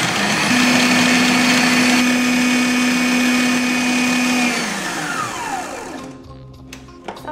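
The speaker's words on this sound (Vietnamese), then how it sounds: "xay hỗn hợp này với thời gian là 1 phút ở tốc độ cao" A blender runs at high speed on a kimchi paste mixture with fish sauce, a loud steady whirring whine that winds down and stops near the end, followed by a few faint clinks.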